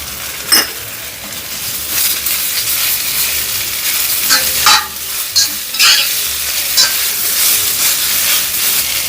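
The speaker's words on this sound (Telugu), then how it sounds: "ఇందులోకి కట్ చేసిన రెండు చిన్న టమాటోలను వేస్తున్నాను" Chopped tomatoes sizzle and hiss in a hot pan for mint chutney, with a spoon scraping and clinking against the pan at irregular intervals, close and continuous.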